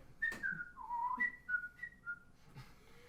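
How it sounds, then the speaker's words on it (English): A person whistles a short, meandering little tune alone, with bright, wavering notes in an uneven rhythm and small breathy pauses between phrases. "let me whistle a little tune to help amplify it"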